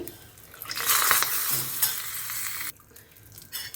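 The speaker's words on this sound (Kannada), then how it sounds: "ಇವಾಗ ನೋಡಿ ಇದಕ್ಕೆ ಎಣ್ಣೆ ಮತ್ತು ಸಾಸಿವೆ ಕರಿಬೇವು ಒಣಮೆಣಸಿನ್ಕಾಯಿ ಮತ್ತು ಇಂಗು ಹಾಕಿರೋ ಒಗ್ಗರಣೆ ಹಾಕ್ತಾ ಇದ್ದೀನಿ" Oil tempered with mustard seeds, curry leaves, dried chillies and asafoetida sizzles loudly when it is poured into a village-style kanchikayi dish, swelling after the first second and then cutting off sharply near the end.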